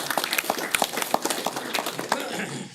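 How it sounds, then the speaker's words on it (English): Round of applause at a recovery support group, a small group clapping in a quick, uneven patter, moderately loud and nearby, fading out at the end. "That deserves a round of applause"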